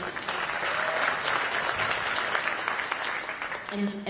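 Audience applause at a public political address by a politician, steady and dense clapping from a large crowd throughout, with a faint voice surfacing near the end.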